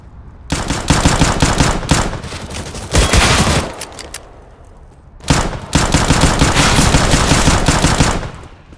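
Counter-Strike: Global Offensive gunshots come in loud, close bursts of rapid automatic fire, three separate volleys with brief pauses between them, the last one sustained.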